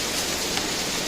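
Steady, even rain falls outdoors in hot weather beside a 2022 Lifan KPX 250 motorcycle being worked on, a continuous broadband hiss with no breaks or voices.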